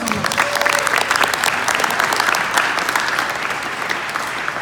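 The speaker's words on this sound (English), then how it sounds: "How about a round of applause?" A crowd at an outdoor parks department disability inclusion event claps loudly and continuously, a dense close patter of many hands that stays strong throughout.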